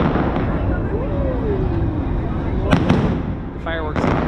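Fireworks burst over Disneyland at night, distant booms and crackles rising out of a continuous crowd murmur, with a whistling rise and a couple of sharp pops standing out.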